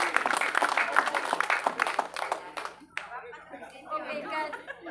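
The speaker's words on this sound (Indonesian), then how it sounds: "Tepuk tangan, luar biasa." Audience applause bursts out loudly for about three seconds, dense clapping that then thins into scattered claps and murmuring crowd chatter.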